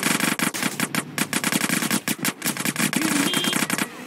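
Rapid automatic gunfire in GTA San Andreas Definitive Edition, a dense string of sharp bursts with brief gaps, loud and close with no talk over it.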